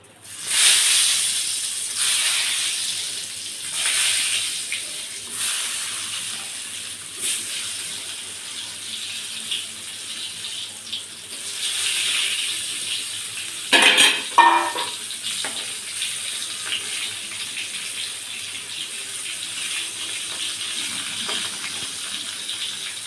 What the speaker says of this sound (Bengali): আমি এখানে বেগুনটা শুকনো লঙ্কার গুঁড়ো একটু লবণ হলুদ দিয়ে মেখে নিয়েছি এবার আমি এটা ভেজে নেবো